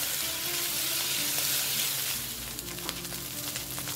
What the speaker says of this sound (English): Add half a tablespoon of soy sauce and continue stir frying.